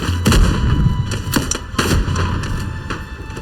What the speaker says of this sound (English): Artillery inbound. Keep your heads down